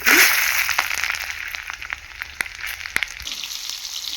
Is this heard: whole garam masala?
yes